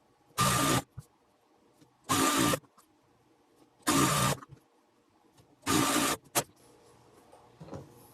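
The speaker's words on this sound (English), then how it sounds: "I'm going to sew this together using 1/4 inch seam" A sewing machine stitches two quilt fabric pieces with a quarter-inch seam in four short, even bursts of whirring, separated by brief pauses and followed by faint handling clicks.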